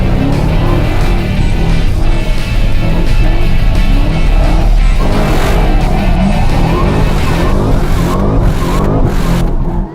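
A car on a Roadkill shootout course, braking hard as it runs onto the dirt beside the cones, roars loudly and continuously with engine noise and tyre scrub filling the whole stretch.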